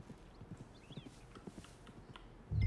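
In the Red Dead Redemption II game, a horse's hooves clip-clop in a quick uneven rhythm at moderate distance, ending in a sudden louder burst near the end.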